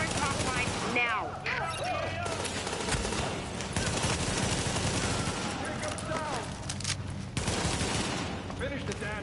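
Heavy sustained gunfire from The Division video game, with rapid machine-gun bursts and fusillades filling the clip, loud and continuous, under intermittent voices.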